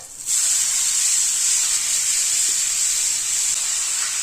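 Chopped vegetables hit hot oil tempered with cumin and asafoetida and burst into a loud, bright sizzle that starts abruptly and holds steady, hissing close up with no voices.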